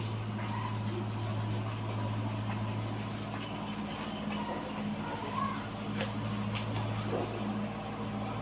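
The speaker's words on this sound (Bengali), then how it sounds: "এইদিকে জমি চাষ করছে, তো গাড়ির শব্দের জন্য ভালো করে বুঝেই যাচ্ছে না কথাগুলো হয়তো" A tractor ploughs a nearby field, its engine a steady low drone and hum that runs throughout at moderate distance, with occasional faint clatter and no clear speech.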